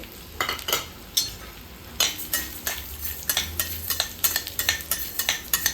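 Coriander seeds dry roasting in a pan with a little oil over medium heat, stirred in repeated scraping strokes with a light sizzle, close and fairly loud.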